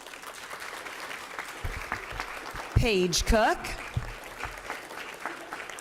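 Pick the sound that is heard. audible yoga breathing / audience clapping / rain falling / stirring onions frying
audience clapping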